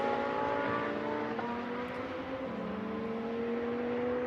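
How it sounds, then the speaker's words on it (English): GT2 race cars running on the Algarve circuit during a Fanatec GT2 Series race, a continuous engine drone with steady tones that shift in pitch as the cars accelerate, heard from a distance and unbroken. "He's keeping the car of Stefan Rossina at bay."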